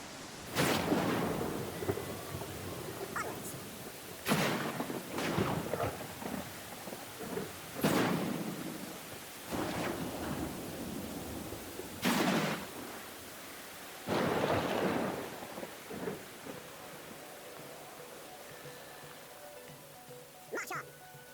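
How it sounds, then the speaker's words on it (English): Rain hisses steadily while repeated heavy thunder rumbles roll in, each lasting a couple of seconds, during a storm in the video game Pathfinder: Kingmaker. "I think the rain is actually slowing down"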